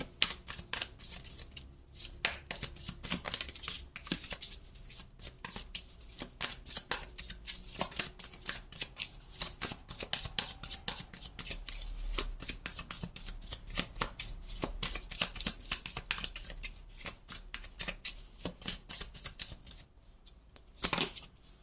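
A deck of tarot cards is shuffled by hand over and over, producing rapid crisp riffling flutters and soft slaps close up, with no talking.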